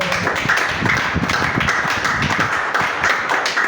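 A church congregation clapping to acclaim the Lord, loud dense rhythmic hand claps from many people filling the room throughout.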